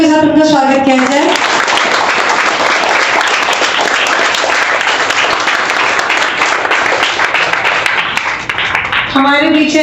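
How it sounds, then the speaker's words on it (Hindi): Sustained loud applause from an audience welcoming a guest at an international chess tournament, steady for nearly ten seconds with a voice speaking briefly at the start and end. "तालियों के साथ उनका स्वागत किया जाए"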